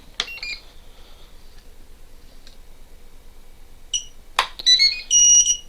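Radio transmitter for a Mobula 7 drone beeping as it binds to a new receiver: a short chirp at the start, a brief tone near four seconds, then a louder run of electronic beeps at the end, close and clear with no talk.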